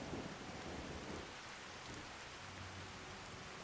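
Steady rain with low rolling thunder from a Skyrim weather mod, a dense, continuous wash of downpour at even loudness with a deeper rumble early on and no voices.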